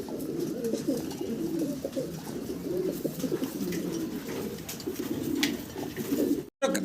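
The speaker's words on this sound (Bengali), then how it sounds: "আজকে চমৎকার চমৎকার ছোট কবুতরগুলো এক এক করে আপনাদেরকে দেখাচ্ছি" Several fancy pigeons cooing nearby at a pigeon farm in low, repeated throaty calls, overlapping continuously with no talking.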